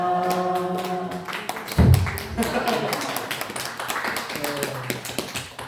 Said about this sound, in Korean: 우리 하나님께 축하의 박수를 올려드립니다